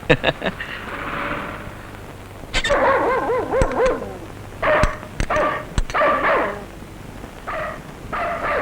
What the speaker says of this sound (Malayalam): ഈ പട്ടി എന്താ ഇങ്ങനെ കിടന്ന് കുരയ്ക്കുന്നേ?